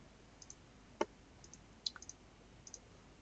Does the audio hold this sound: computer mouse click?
yes